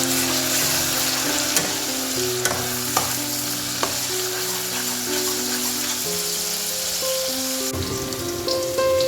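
Onion paste frying with bay leaf in a pan for a Bengali fish curry, a loud, steady sizzle close by, with occasional stirring clicks and no talking.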